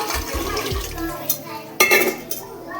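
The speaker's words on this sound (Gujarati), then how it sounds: "હવે આમાં પાણી એડ કરી નાખીએ" Water is poured into a pot of fried vegetables for pulao, with a short splashing rush after some clinks and scrapes of the utensil against the pot, heard up close.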